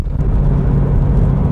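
A stock 1996 Ford Mustang GT's V8 engine runs with a loud, steady low rumble, close by, with no talking over it.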